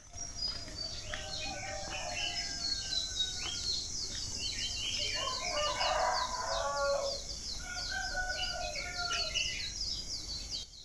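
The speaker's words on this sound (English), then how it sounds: "I can hear the birds singing and the roosters crowing." Roosters crow repeatedly at a distance while birds chirp and sing throughout, over a steady outdoor background hum.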